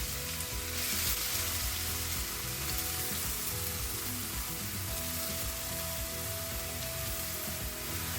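About 2 kg of grated carrots sizzle and crackle steadily in hot ghee for gajar halwa, a dense, continuous frying hiss with small popping bursts, close and loud throughout, with no talking.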